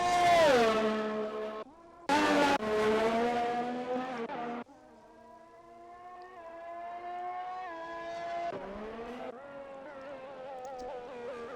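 Formula 1 race cars roar through a racing video game's Belgium round, loud engine whines rising and dropping with gear shifts, a second car briefly passing close before a steadier, more distant drone continues.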